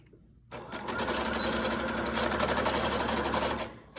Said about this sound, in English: I'm going to lock my stitches